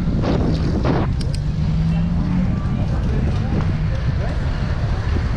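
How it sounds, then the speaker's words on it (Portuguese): Strong wind buffets the microphone at a crowded street bike meetup, a constant loud rumbling roar that runs the whole time with faint crowd and traffic noise beneath it. "O vento tá forte, hein?"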